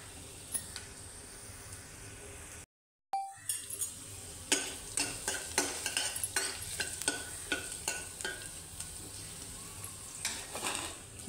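Garlic sizzles in oil in a kadhai over a medium gas flame, a close crackling hiss broken by a short silence, then a run of sharp spatula scrapes and clinks against the pan.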